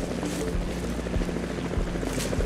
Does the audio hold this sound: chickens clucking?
no